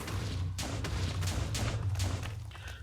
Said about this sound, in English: It's just about to be met by a TNT bombing missile